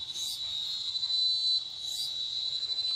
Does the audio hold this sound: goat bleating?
no